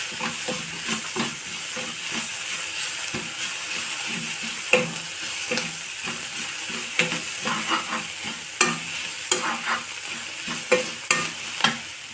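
Steady sizzling of crushed garlic, crushed ginger, green chili and curry leaves frying in hot oil, with occasional scraping and stirring clicks from a utensil in the pan.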